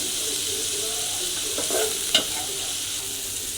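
Torn dried chillies and shrimp fry in a hot pan, a steady close sizzle with a few stirring scrapes and one sharp utensil clack partway through.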